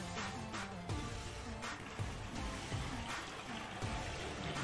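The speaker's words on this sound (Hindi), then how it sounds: "ये पानी डाल रहे हैं" Water is poured into a mini washing machine, making a steady, close gushing and splashing that runs without a break for several seconds, fairly quiet overall.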